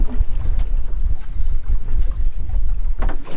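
A fishing boat's engine rumbles low and steady off the South Coast under gusty wind buffeting the microphone, with a few sharp knocks near the end.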